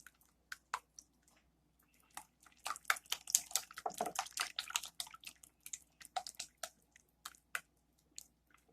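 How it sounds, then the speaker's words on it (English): Condensed milk and eggs being mixed well for a coconut tart, giving soft, wet squelching and sticky slaps in irregular bursts that grow busier midway, close and fairly quiet, with no talking. "I'm going to mix this really, really well."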